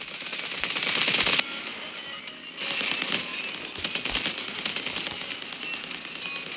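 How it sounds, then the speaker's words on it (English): Rapid bursts of aircraft machine-gun fire in the Roblox dogfighting game Wings of Glory, loud crackling volleys that rise, break off and resume in dense repeated rattles. "Who's firing at me?"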